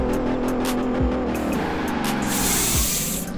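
A 1991 Bentley Turbo R with a 6.75-litre engine in Forza Horizon 4 gives a deep, loud, continuous rumble that rises and falls through the revs, with short tyre squeals.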